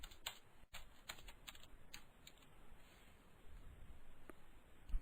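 Faint typing on a computer keyboard while entering code: quiet, irregular clusters of light key clicks with one sharper tap, close by and without talk.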